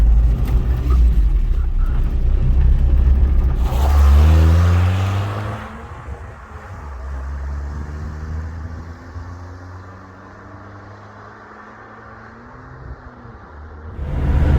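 A first-generation Toyota pickup truck drives with a steady engine drone that swells as it accelerates, then drops to a lower, smoother hum as it cruises along.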